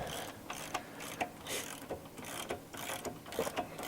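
A ratchet wrench tightens the propeller nut on an outboard motor, producing a quick series of close, crisp clicking strokes in irregular bursts over a steady background hiss.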